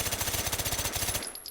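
A suppressed, stock-fitted 7.35 automatic rifle fires a rapid full-auto burst of evenly spaced, loud shots that stops abruptly, followed by brief mechanical clicks.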